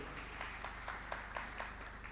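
Applause from an audience at a youth empowerment summit, a faint, steady wash of many hands with a few sharper individual claps standing out at a regular pace, no voices.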